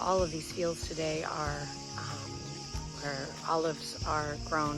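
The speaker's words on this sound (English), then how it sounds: "You can hear the cicadas chirping in the background." A steady high insect buzz of cicadas among olive groves in Crete runs through the background while someone speaks close up over it.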